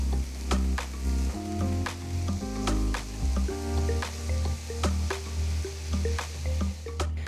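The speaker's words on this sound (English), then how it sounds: "Next, add 5 ripe tomatoes, finely chopped. Cook them down until they turn soft and mushy." Five finely chopped ripe tomatoes cook down in a pan, sizzling steadily up close while a spoon stirs them in slow, regular strokes, with no talking.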